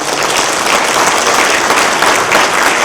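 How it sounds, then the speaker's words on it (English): Loud, dense applause from a conference breakout session audience fills the whole moment without a break. "Let's give a big round of applause."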